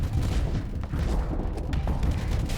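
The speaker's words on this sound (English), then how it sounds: "it does a huge explosion of EMP damage" A large EMP blast from a weapon upgrade in a space video game, a loud, heavy rumbling roar with crackling texture that fills the whole moment at steady intensity, with no voices over it.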